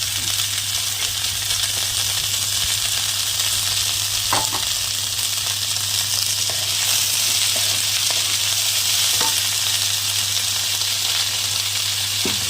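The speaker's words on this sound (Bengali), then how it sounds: "এবার দিয়ে দেবো আমি আলুর খোসা পটলের খোসা শুকনো" Potato and pointed gourd peels fry in a pan with a steady, loud hiss while a utensil stirs them, giving occasional scrapes and knocks throughout.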